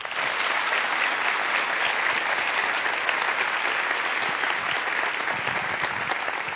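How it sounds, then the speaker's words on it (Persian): Studio audience applauding for Mobina on a Persian television comedy show, a steady, dense wash of clapping that holds at full strength throughout, with no talk over it. "بچه مبینا رو تشویق کنیم."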